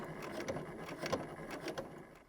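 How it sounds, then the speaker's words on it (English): A sewing machine running a regular straight stitch with a zipper foot along a fabric edge, a fast, close, rhythmic mechanical whir and clatter lasting a couple of seconds. "I'm just doing a regular straight stitch for this part."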